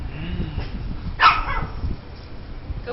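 A pet dog gives a single short bark in a home, close and moderately loud over a low background murmur, with nothing else distinct.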